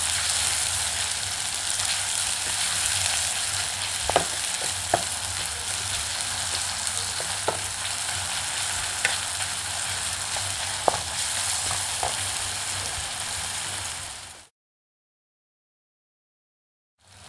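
Small onions sizzle in about a quarter cup of hot oil in a pan, a steady loud frying hiss with occasional pops and crackles, then it cuts to silence near the end.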